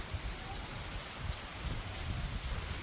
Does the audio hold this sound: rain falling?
yes